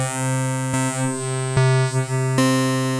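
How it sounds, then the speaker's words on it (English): Genki Katla synthesizer sounding a sustained, harmonically rich tone through its wave shaper, with sharp clicks at each retrigger and sweeping overtones gliding down and back up, loud and steady with no talking. "then we've got a wave shaper."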